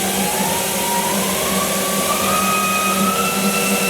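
The spindle of a 2018 Haas ST-10Y CNC turning lathe with Y-axis and live milling runs at 1,000 RPM, giving a steady, close whirring hum with a faint rising whine throughout.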